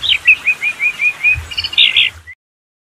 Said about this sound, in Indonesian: Burung anis ini dikenal dengan gaya berkicaunya yang unik.